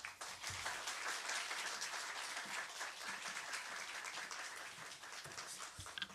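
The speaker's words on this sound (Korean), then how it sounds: "이 시간 우리 임은미 선교사님 나오실 때 큰 박수로 환영하시겠습니다." A church congregation breaks into loud, sustained applause at a Friday evening revival service to welcome a missionary to the pulpit, a dense wash of clapping that continues steadily throughout.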